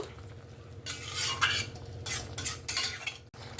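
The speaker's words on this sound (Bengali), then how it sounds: "মশলাটা দেওয়ার পরে আমি এখানে দু থেকে তিন মিনিটের মতন ভালো করে একটু নাড়াচাড়া করে কষিয়ে নিয়েছি" Spice paste with cumin, mustard and onion is stirred and fried in a village kitchen for a shrimp and Malabar spinach stalk curry, with bursts of scraping stirring over a steady low sizzle, close and moderately loud.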